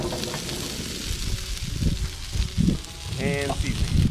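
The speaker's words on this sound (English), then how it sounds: "I'm gonna get them on the griddle, get some oil down first" Cut potatoes sizzle in oil on a Blackstone griddle, a close crackling hiss with bursts of spattering under a voice.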